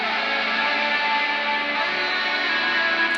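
Distorted lead electric guitar line from a pop punk intro, thick, sustained and steady, filling the mix without pause for about three seconds.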